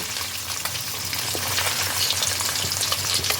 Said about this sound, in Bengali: এভাবে উল্টে দিয়ে মাছগুলোর অপর পিঠও ভালোভাবে ভেজে নিতে হবে